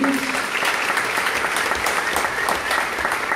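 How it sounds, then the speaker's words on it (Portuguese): An audience at a Christian parenting conference gives a dense, sustained round of applause for children, steady clapping at close range with no talk over it. "Uma salva de palmas para os meus filhinhos."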